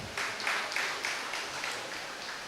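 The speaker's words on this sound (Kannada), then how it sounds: "ಕರತಾಳದ ಚಪ್ಪಾಳೆಯ ಅಪೇಕ್ಷೆಯನ್ನು ನಾನು ಅಪೇಕ್ಷಿಸ್ತಾ ಇದ್ದೇನೆ" An audience at a cooperative society's annual general meeting claps, a brief burst of applause with a pulsing rhythm that fades toward the end, with no talking.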